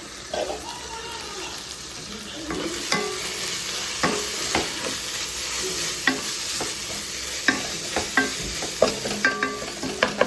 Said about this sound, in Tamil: அதையும் சேர்த்து நல்லா வதக்கிப்போம், எண்ணெய் பிரிகிற அளவுக்கு வதக்கிப்போம்.